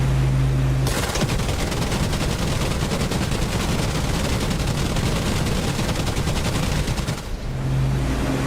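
Aircraft cannon fire during a strafing run in the DCS flight simulator, one long, loud, continuous rattling burst over a steady engine drone, stopping abruptly near the end, with no talking.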